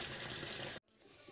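Hot water running steadily from a kitchen tap, a loud broadband rush that stops abruptly partway through, leaving only faint room noise.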